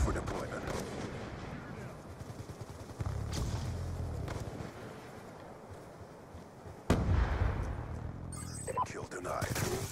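Pistol fire in Call of Duty Black Ops 2 multiplayer, several sharp shots scattered across a muffled background of game action, with some louder bursts, heard alone without talk.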